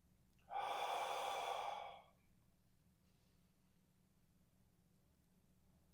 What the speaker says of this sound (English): soft inhale